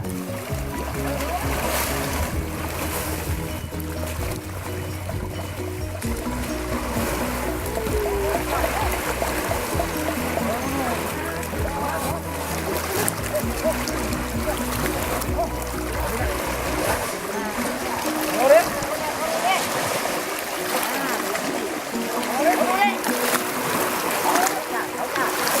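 Elephants bathe in a river at an elephant sanctuary, producing continuous splashing and flowing water with irregular sloshes, heard at moderate distance over a low engine-like hum that stops partway, with occasional talk.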